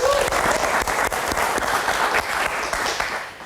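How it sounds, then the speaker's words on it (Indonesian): Studio audience applause on a Jakarta political comedy talk show, steady dense clapping filling the room from start to finish at close, loud level, with a faint voice briefly underneath. "Oke, kita kasih tepuk tangan dulu dong."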